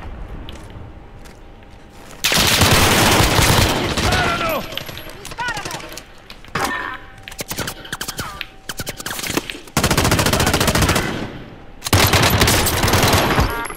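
Automatic weapons fire in the Call of Duty Warzone video game comes in several long, loud bursts separated by quieter gaps. Players talk between the volleys.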